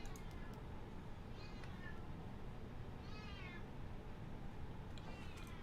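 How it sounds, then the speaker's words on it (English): A cat meows several times over a steady low hum inside a home flight-sim setup, the drawn-out mews rising and falling in separate bursts at moderate distance. "You guys might hear the cat there."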